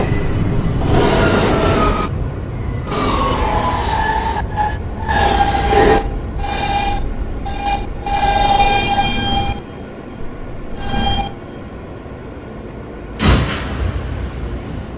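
Manhattan-bound R express subway train running close and loud: a continuous rumble with rising and falling motor whine, a few short horn-like tones, and quieter stretches near the end.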